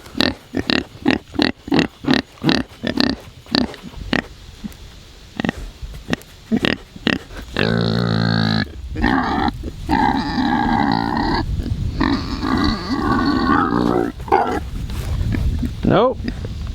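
Farm pigs grunt in a rapid series of short snorts, then give a long loud squeal and more grunting close by, mixed with someone talking to them in the evening.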